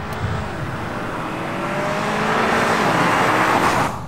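A 2020 Honda Accord Touring with the 2.0-liter turbo engine and 10-speed transmission accelerates, its engine note swelling and rising steadily over a few seconds up close, with road noise beneath.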